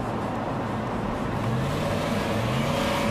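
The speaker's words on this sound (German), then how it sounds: "Reifenquälend schiebt die schwere Fuhre haltlos über die Vorderräder." A heavy Range Rover Sport HSE SUV is pushed fast through curves, its engine droning steadily with a slowly rising tone and tire noise, loud and continuous, with no voices.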